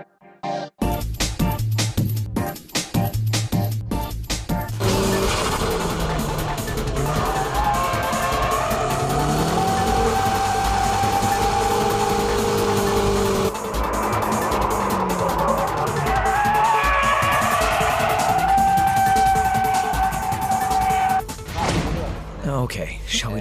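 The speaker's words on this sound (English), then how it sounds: "Okay, shall we try this dynamic drifting?" A race car drifting dynamically on a track, engine roaring loud and close with sweeping pitch changes as revs rise and fall, tires squealing through the slides, with no voices over it.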